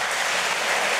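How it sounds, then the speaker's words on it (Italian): A congregation at an evening Catholic Mass bursts into brief, dense applause, a steady wash of many hands clapping in a reverberant church space, with no speech. "Un applauso."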